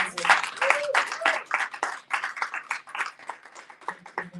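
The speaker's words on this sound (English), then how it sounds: "I think another round of applause for Angela." An audience at a revival workshop applauds, a brisk run of individual claps at moderate volume with a voice speaking over the start.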